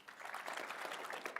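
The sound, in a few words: applause for a panelist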